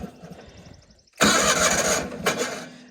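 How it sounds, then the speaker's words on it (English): A John Deere 420 garden tractor's starter cranks, then the engine catches and runs with a loud, rough sputter close by, after a brief whirring buildup and with no talking. "And sometimes my starter cuts out"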